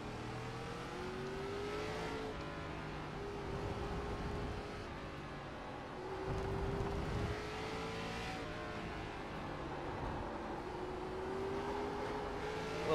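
A stock car engine in an iRacing ARCA Menards race sim drones steadily throughout, its pitch sweeping up and down through gear changes and throttle lifts, with faint other cars in the background.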